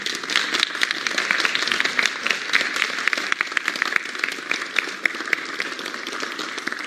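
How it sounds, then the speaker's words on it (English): A crowd at a national brass band championship applauds musicians Bob and Brendan, sustained, lively clapping with sharp individual claps standing out, steady and fairly close throughout. "So please give them a big applause"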